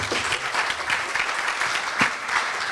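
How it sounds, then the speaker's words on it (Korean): Faculty at a university gathering clap for Korea University president Yeom Jae-ho, producing brief, steady applause from a seated audience across the whole clip. "큰 박수 부탁드립니다."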